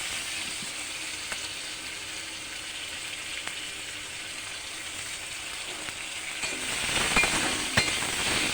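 Chopped onions with panch phoron and three slit green chillies sizzle steadily in hot oil, a constant close hiss with a few light clinks and a brief louder stir near the end.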